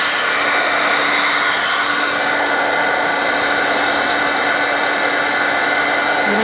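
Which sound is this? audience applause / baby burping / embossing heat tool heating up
embossing heat tool heating up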